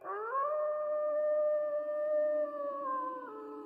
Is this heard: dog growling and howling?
yes